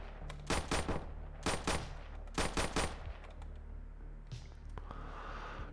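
Zombies shot down in the survival game VEIN: three quick bursts of close, loud gunfire crack out in rapid clusters of several rounds each, over a steady low hum, followed by a quieter scuffling and hiss.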